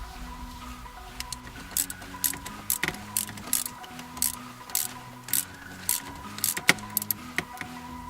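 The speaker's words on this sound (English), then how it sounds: "So we're going to get those bolts out and get this stock shifter off." Metal hand tools working on the stock shifter bolts beneath a 2000 Mustang GT, with repeated short clinks and clicks in an irregular rhythm, close by and moderately loud over a low background hum.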